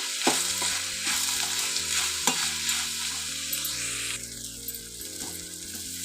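Onions and asafoetida sauté in a pan for dal palak. The oil sizzles steadily while a spoon scrapes and stirs now and then, and a low hum runs underneath. The sound is close and there is no talking.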